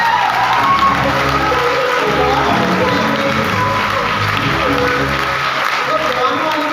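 Seminar hall audience applause mixed with cheering and whoops, loud and continuous, with shouting voices rising through the clapping of a large crowd.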